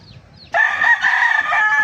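Sweater and Gilmore breed chicken in a backyard crowing close and loud, one sustained cock-a-doodle-doo after a faint short call, over soft background sounds.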